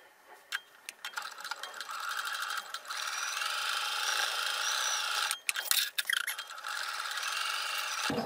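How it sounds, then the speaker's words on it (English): A sewing machine stitches fabric duckbill face masks, its motor whirring in a steady rapid run for several seconds, with a brief pause and mechanical clicks near the middle, close and alone without talk. "We're gonna go ahead and sew these now."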